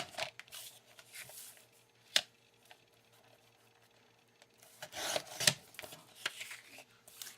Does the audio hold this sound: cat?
no